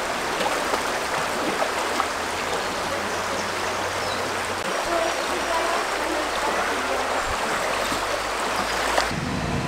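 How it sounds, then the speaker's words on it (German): A stream runs beside the Malerweg hiking trail in Saxon Switzerland, Germany, giving a steady, close rush of flowing water that fills the whole stretch without pause. "Endlich Wasser."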